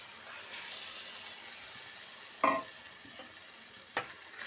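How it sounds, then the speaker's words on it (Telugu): Tomato paste made from two large tomatoes fries in a pan for tomato sherwa. A steady, moderate sizzle runs throughout, broken by two sharp metallic clinks of a utensil against the pan. "ఇప్పుడు టమాటా పేస్ట్ వేగాలి."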